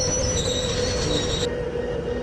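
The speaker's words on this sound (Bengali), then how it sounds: "ওইদিকে ট্রেনটিও আসছে দ্রুত গতি নিয়ে।" A Bangladesh Railway train rolls steadily past on the tracks, loud and close, with a continuous rumble and high wheel squeal that cuts off partway; no voices.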